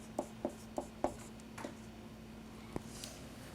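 A pen writes out a chemical equation, giving a string of short, faint taps and scratches in a quick uneven rhythm over a low steady hum.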